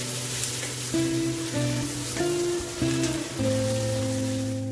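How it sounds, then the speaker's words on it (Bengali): Chopped onions softening in hot oil in a pan for a Bangladeshi potato beef curry, giving a steady close sizzle with a low tonal hum that shifts in steps underneath. "পেঁয়াজ কুচিগুলিকে খুব বেশি ভাজবো না, হালকা নরম হয়ে আসা পর্যন্ত ভাজবো।"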